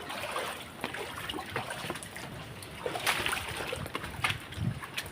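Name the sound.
floodwater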